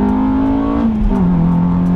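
A 2002 Acura RSX Type S engine revs hard and loud from inside the cabin, its steady tone climbing and then shifting pitch as it pulls up into VTEC.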